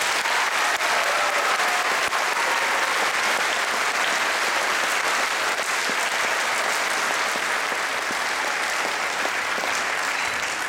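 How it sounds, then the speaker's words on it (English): Sustained audience applause fills a school band concert hall, a dense, steady wash of clapping that stays loud and even from start to finish with no talk over it. "I would just like to give him a round of applause"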